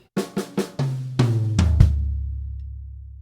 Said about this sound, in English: Okay, or right on floor tom will sound like this.